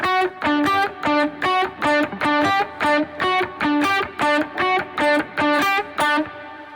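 A clean electric guitar plays a dry, evenly paced repeating pattern of short plucked notes, about a dozen in a row, with no echo trailing them.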